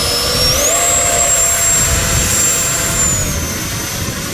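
FMS Rafale 64mm RC jet with an electric ducted fan, outdoors on a windy day at hand launch: a loud, close, continuous high-pitched fan whine that holds steady and then dips slightly in pitch, with wind rumble underneath.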